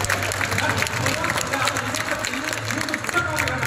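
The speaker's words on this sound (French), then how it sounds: "On les applaudit." An audience applauds at a conference and live drawing event, with a steady wash of clapping lasting several seconds and voices mixed in over a low background hum.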